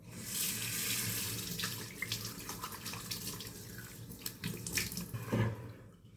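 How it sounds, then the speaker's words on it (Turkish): Tap water runs steadily into a sink for about five seconds, with small splashes as cold water is scooped onto a face after shaving with a straight razor, then the flow cuts off near the end. "Yüzümüzü bir soğuk suyla yıkayalım."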